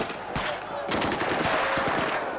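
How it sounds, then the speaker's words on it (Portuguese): Rapid machine-gun bursts crackle in a film scene of military police clashing with landless rural workers on a road, several quick volleys of gunfire firing close and loud one after another. "A resposta é com rajadas de metralhadora."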